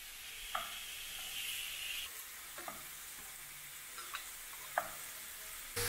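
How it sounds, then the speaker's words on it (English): Shrimp and mushrooms frying in olive oil in a pan at home, a soft steady sizzle with a few light clicks and taps of a utensil stirring, fairly quiet with no talk. "I'm just heating up the olive oil in there. And then I'm gonna add the mushrooms and the shrimp"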